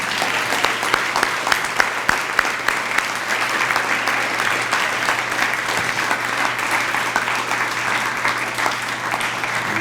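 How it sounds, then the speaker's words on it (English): Sustained applause from a large audience at a middle school grade 8 awards and promotion ceremony, honoring graduating students; a dense, steady roar of many hands clapping, with no talk over it. "big round of applause for your classmates and yourself"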